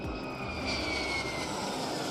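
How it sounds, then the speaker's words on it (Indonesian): A Lockheed Martin F-35 fifth-generation stealth fighter jet produces a steady, continuous jet-engine roar with a whining tone, heard alone without voices. "F-35 adalah jet tempur yang dibuat oleh pabrikan dirgantara Amerika Serikat, Lockheed Martin"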